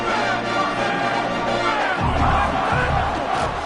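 A stadium crowd roars in the College Football 26 video game during a red-zone drive, a loud sustained cheer that surges and swells midway as the play unfolds.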